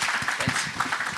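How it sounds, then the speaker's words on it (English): A summit audience applauds a speaker, with a short burst of many hands clapping at an even, moderate level. "Please give a round of applause to Thorsten Scheer."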